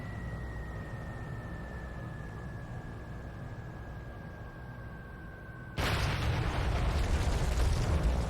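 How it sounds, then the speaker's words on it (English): In the War Thunder aircraft combat game, the largest bomb hits after several seconds of steady engine drone with a falling tone. It lands as a sudden loud, broadband blast that keeps rumbling to the end. "Here we go, biggest bomb in the game."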